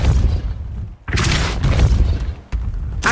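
A Depulso spell cast in Hogwarts Legacy lands as a loud, dense booming blast, with three heavy bursts following one another in quick succession over a constant low rumble.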